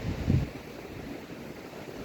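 Steady seaside wind buffeting the microphone on a boardwalk, a low continuous rumble with a faint wash of surf beneath, no voices.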